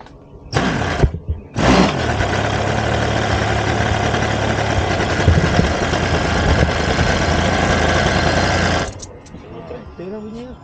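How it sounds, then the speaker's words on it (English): A small RC airplane engine runs close by for several seconds in an outdoor flying area. It starts with a brief sputter, then holds a loud, steady buzzing drone and stops abruptly. People talk faintly before and after. "Let's get the idle first."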